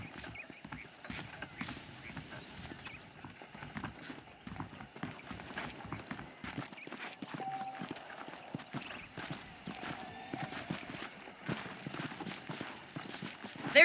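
Horse hooves clip-clop at a steady walking pace in the Red Dead Redemption video game, moderately close and fairly quiet, with faint game ambience under them.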